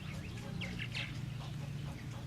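Purple martins chatter at a gourd rack colony in Texas, a few short burbling calls rising over a constant low hum of background noise, fairly faint and close together.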